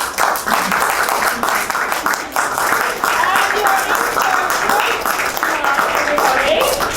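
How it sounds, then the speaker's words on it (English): Audience applause for a speaker at a career talk, a steady clapping crowd with voices and some talk or cheering mixed in throughout. "Let's give her a round of applause."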